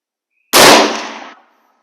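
A single loud crack from an M96 Swedish Mauser rifle fired at a range, sharp onset followed by a short, decaying boom and echo tail, close to the listener.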